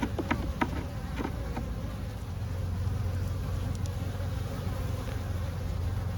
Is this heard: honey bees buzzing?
yes